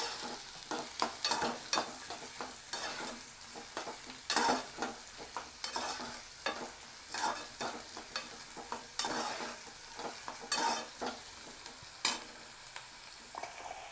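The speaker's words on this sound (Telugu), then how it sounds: "ఈ ఉల్లిపాయ ముక్కలు పచ్చిమిర్చి ముక్కలు బాగా వేగాలి" Chopped onion and green chilli pieces fry in a pan. A steady soft sizzle runs throughout while a utensil scrapes and stirs in irregular strokes, fairly quiet and close.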